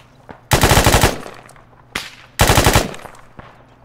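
Arma 3 video game gunfire: two loud, close bursts of rapid automatic fire about two seconds apart, each lasting about half a second, with fainter single shots in between.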